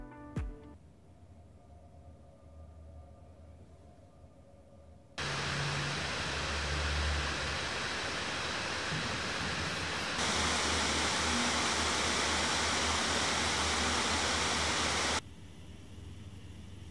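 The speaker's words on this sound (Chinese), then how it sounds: "我们还是用综合负载比较高的达芬奇导出来对比一下噪音好了。" A laptop fan whirs under heavy load during a DaVinci Resolve export, a steady broadband rush that starts quietly and then jumps up in two loud stages before dropping back to a softer hum.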